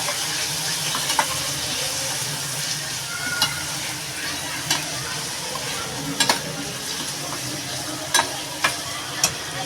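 Greens are stirred in a frying pan with cumin and other spice powders, giving a steady, close sizzle. Sharp scraping strokes from the stirring recur every second or so, and no one speaks.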